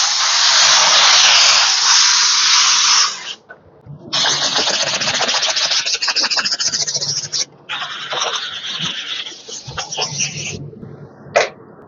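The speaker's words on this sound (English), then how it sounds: "So I'm going to use the compressor." A loud air compressor hums and roars steadily, cutting out briefly twice before running again, then stopping near the end.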